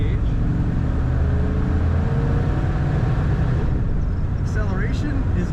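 A 1955 Oldsmobile 88 Holiday Sedan accelerating, heard from inside the car as a loud, steady low engine drone that holds for several seconds before easing slightly near the end.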